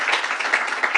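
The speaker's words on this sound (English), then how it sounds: "Annette Robinson, let's give her a round of applause." Audience applause at a governor's public event, a short burst of continuous crowd clapping with no talk over it.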